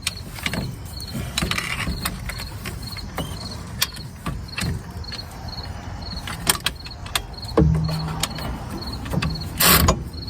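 A 15 mm socket wrench works on a wheel hub bolt of a 2006 Buick Lucerne, giving repeated sharp metallic clicks and ratcheting ticks, with clunks and scrapes nearby and no voices.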